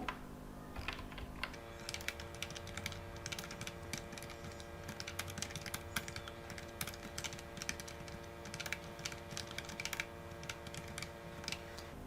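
HTML code is typed on a computer keyboard into Notepad: rapid, continuous clicking keystrokes with brief irregular pauses, up close and fairly quiet, for several seconds without speech.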